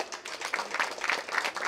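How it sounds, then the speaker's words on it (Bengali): A crowd at a Ganesh Puja pandal award ceremony in Dum Dum applauds, the rapid, overlapping hand claps forming a steady, moderately loud patter with no voices over it. "এর জন্য এটা জোরে হাততালি হবে।"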